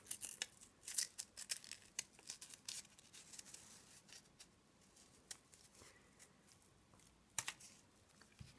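Scissors snip through paper while cutting out paper fruit such as grape shapes, producing many quiet, crisp, irregular cuts close by.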